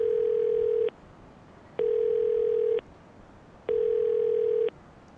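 A payphone dial tone in Yakuza 0 sounds three times as steady mid-pitched beeps, each about a second long and separated by short pauses, clear and alone.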